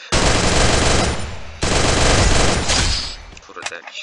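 Rapid automatic gunfire from the battle royale game Garena Free Fire, loud and close, in two sustained bursts separated by a short break and ending in scattered shots and clatter.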